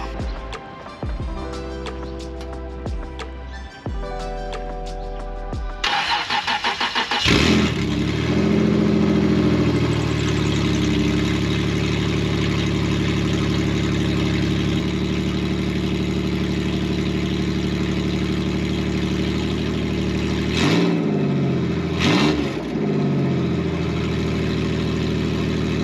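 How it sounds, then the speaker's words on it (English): A third-generation Toyota 4Runner engine with Doug Thorley open headers cranks and fires, then idles loud and rough at close range for a long stretch, with brief revs near the end. "Let's start this thing up open headers."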